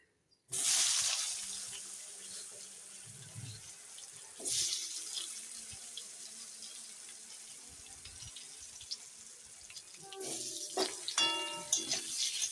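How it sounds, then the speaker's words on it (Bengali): Potatoes frying in the same oil just used for frying rohu fish heads give a steady broadband hiss that swells up after a quiet start, with a second surge midway and some clattering of utensils near the end. "একই তেলে আমি এখন আলুগুলো ভেজে নেব"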